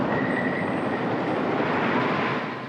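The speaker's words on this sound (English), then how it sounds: "Wood coasters are designed to vibrate." Wooden roller coaster train rattling and rumbling along its track, a steady, loud, dense roar with faint wheel squeal, close by and continuous, with no voices.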